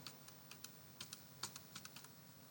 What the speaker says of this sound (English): press K on keyboard.